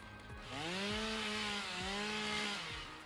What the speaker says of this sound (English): I need to use the chainsaw here.